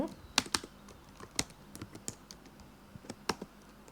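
Fingers type on a computer keyboard, close up and quiet, in an irregular run of light clicks with a few sharper keystrokes.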